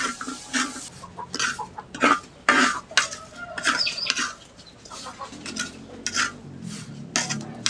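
Shallots, garlic, red chilies, bird's eye chilies, kencur and shrimp paste dry-roasting in a pan, with irregular metallic scraping and clinking of a utensil against the pan, close and fairly loud, with no talking.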